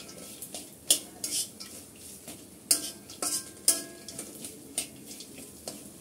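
A spoon scrapes and clinks against a pan while a spiced filling of chili, cumin and coriander powder with nuts is stirred, the sharp scraping strokes coming in an irregular rhythm under a faint sizzle.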